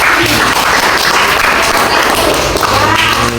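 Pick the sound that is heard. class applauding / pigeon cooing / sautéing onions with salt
class applauding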